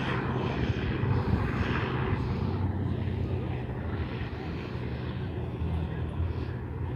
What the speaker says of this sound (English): There we have a helicopter probably giving a tour